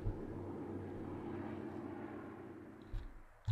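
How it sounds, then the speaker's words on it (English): A propeller airplane drones steadily in the Gas Station Simulator game at an airstrip, a low, faint engine rumble sustained throughout, with a couple of brief thumps near the end. "I hear a plane."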